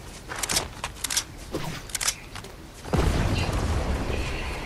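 Gunfire and explosions in a Fortnite match: a run of sharp, loud shots in quick bursts, then a heavy booming blast that leaves a long, dense rumble.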